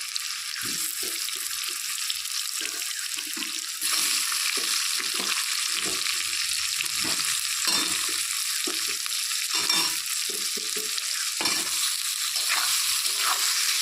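Boiled potatoes frying in a pan with onion give a steady, close sizzle across the whole stretch, growing a little louder partway through, with occasional stirring scrapes and no talk.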